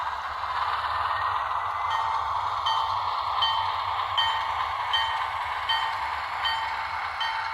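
HO scale Bachmann ALCO S4 model switcher locomotive with DCC sound running, a steady humming diesel drone with faint rhythmic clicking of wheels on track joints, continuous and close, no talking.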